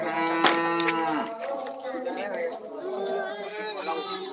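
A cow moos loudly during the qurban sacrifice slaughter at a pondok pesantren in a Minangkabau village, with long lowing calls close by over crowd chatter.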